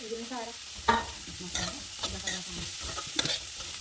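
Spring onion greens and green chillies fry in oil, sizzling quietly under repeated spatula stirs that scrape and clatter against the pan at an uneven pace.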